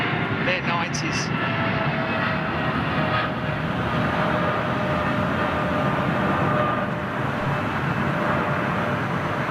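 A jet airliner with GE90 engines passing overhead, a broad, steady roar filling the air throughout, loud and sustained without clear rise or fade, with voices talking beneath it.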